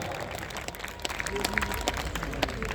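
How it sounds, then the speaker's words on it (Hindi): Audience applause at a 26 January gathering in India: a dense, even patter of many hands clapping across the whole stretch, with voices and crowd noise mixed in. "एक बार जोरदार तालियां बजाओ"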